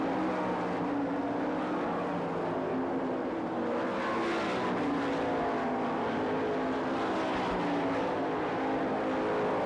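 Sprint cars race at the Knoxville Nationals, a steady distant roar of engines droning around the dirt oval, with no talk over it.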